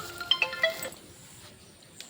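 A phone ringtone plays a few bright electronic notes, then cuts off, leaving quiet room noise and a faint click.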